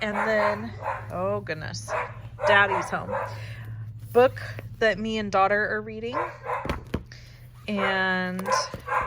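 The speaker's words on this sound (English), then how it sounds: "I'm sorry about the dog." A dog barks intermittently in the background of a home while someone talks steadily over it.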